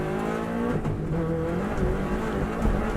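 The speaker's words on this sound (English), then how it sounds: "Car bumping across the road there" A Subaru Impreza race car on a lap, engine note rising and falling through gear changes with a few bumps and thuds as it crosses the road surface, close and loud inside the cabin.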